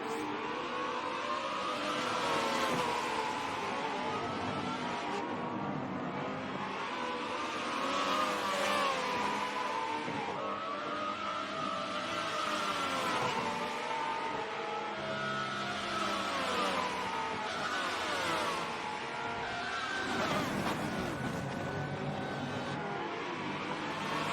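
Prototype race cars battle wheel to wheel in a racing video game at Indy, engines droning and revving continuously at high pitch with shifting tones as cars pass, loud and steady throughout with no talk.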